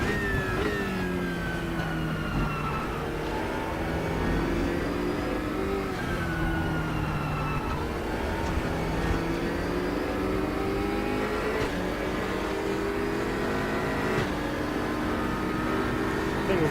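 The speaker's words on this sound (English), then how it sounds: "The thing with these cars is they're all so quick." Race car engines in RaceRoom Racing Experience roar continuously and loudly as several cars run close together, their pitch climbing and dropping through rapid upshifts and downshifts into a hairpin.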